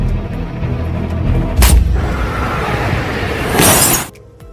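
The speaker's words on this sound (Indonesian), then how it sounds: "tembakan Henry berhasil mengenai target pada bagian leher" A sharp gunshot crack rings out in the film Gemini Man, followed later by a second loud blast with a noisy burst, set against a rumbling film-like background.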